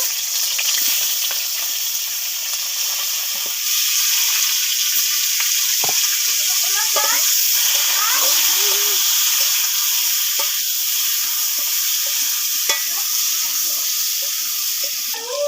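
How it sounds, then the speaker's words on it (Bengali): Young jackfruit pieces fry in oil in a wok with a steady, close hiss and sizzle, broken by a few sharp pops, scrapes and chirpy crackles from the spatula stirring. "কড়াতে তেল দিয়ে দিয়েছি, এঁচড়গুলো ভেজে নেব।"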